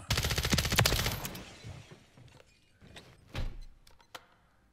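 HRM-9 gun in a video game firing a rapid burst of shots up front, followed by a few scattered single cracks and quieter clatter.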